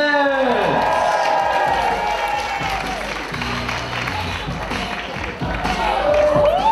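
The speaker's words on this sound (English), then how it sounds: "Everyone give a big round of applause to our" Audience at a live Blind Date show applauding and cheering for the contestants, a loud sustained wash of claps and crowd noise with a voice and tonal sounds over it at the start and end.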